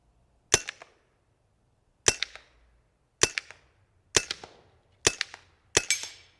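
Six sharp shots from a Huben GK1 .25 air pistol, each a crisp crack with a brief ringing tail, fired at uneven intervals of about one to one and a half seconds in an otherwise quiet setting.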